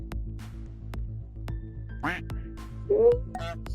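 A cartoonish duck quacks in the Roblox video game, giving a couple of short quacks that cut through steady looping game music.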